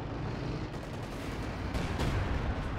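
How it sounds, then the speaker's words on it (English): An anti-tank gun fires in a Company of Heroes 2 match on the Belgorod map, its sharp reports rising out of dense, continuous battlefield rumble and gunfire, with a couple of heavier booms near the end and no voices. "There we go, good hit by the AT gun."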